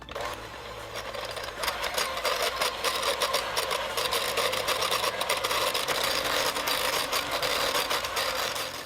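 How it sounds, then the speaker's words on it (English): A blender runs steadily, mixing keto tiramisu ingredients sweetened with Swerve and flavored with vanilla extract, a loud continuous motor whir with a dense rattling texture that holds for the whole stretch. "Now I am going to blend until all ingredients are incorporated and smooth."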